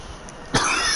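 A single sharp cough bursting out after a moment of quiet room tone, close and loud, followed by a brief rough exhale.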